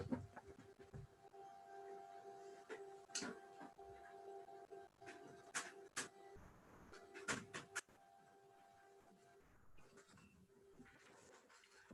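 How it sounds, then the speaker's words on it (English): A printer runs quietly in the background of a room, giving faint intermittent mechanical whirs and clicks with a steady tonal hum, soft bursts of movement, then calmer, quieter operation. "my printer has suddenly come into life and I can't switch it off. And it's making a noise in the background"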